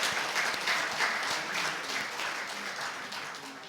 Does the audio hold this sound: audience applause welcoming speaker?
yes